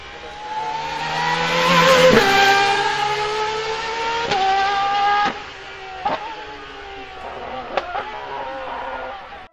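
Engine of a 6.5-liter V12 hybrid hypercar at the Goodwood Festival of Speed 2023, revving loud and close with rising pitch, then several sharp blips and throttle stabs as it moves off.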